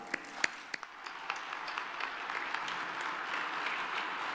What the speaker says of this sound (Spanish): les pido un aplauso para recibirla